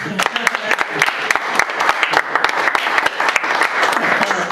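A church congregation breaks into sustained applause, dense clapping filling the space at steady loudness with a few sharper claps standing out, and faint voices mixed underneath.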